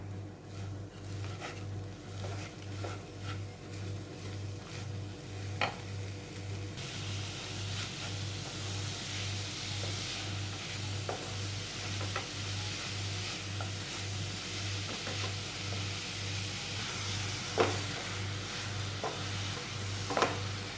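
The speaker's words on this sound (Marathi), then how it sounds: "आणि हे सगळं मिक्स करून घेऊया" Modak filling of jaggery and fresh grated coconut being stirred in a pan: quiet, continuous scraping and soft sizzle over a low steady hum, with occasional sharper clicks of the spoon against the pan.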